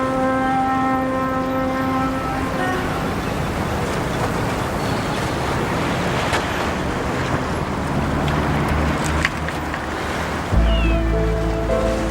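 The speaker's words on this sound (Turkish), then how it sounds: "Deniz biraz dalgalı bugün" Steady rush of rough sea waves with wind buffeting the microphone, continuous and fairly loud, a deeper low rumble joining near the end; no talking.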